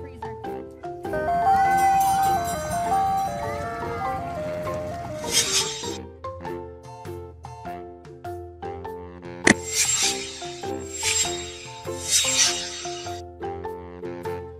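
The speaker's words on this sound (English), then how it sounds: "Food truck." A food truck's melodic jingle plays as a bright, tuneful electronic melody, loud and steady, with shimmering high chimes in short bursts across the passage.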